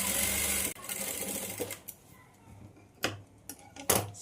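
A sewing machine runs loudly and steadily while stitching a blouse, then breaks off into short bursts of stitching with pauses between them.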